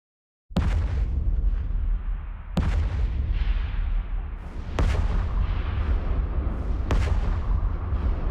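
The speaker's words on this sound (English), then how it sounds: "Waiting a little bit, we see they explode all the containers." Containers exploding one after another in the space video game EVE Online: four sharp, loud booms spaced about two seconds apart, each trailing off into a dense rumbling roar.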